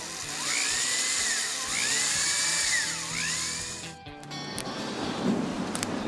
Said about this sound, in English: All I got to do now is drill a couple of little holes for the handle, or rivets for the handle.